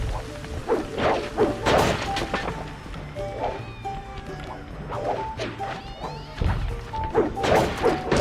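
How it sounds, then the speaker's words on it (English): Repeated smashing and crashing of breakable objects in the video game Sly 2: Band of Thieves, a rapid run of loud whacks and thuds with brief pauses between hits. "Just smashing up public property."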